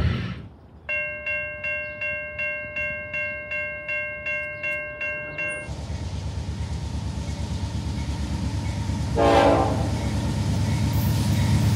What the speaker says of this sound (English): there's the grain train on the NS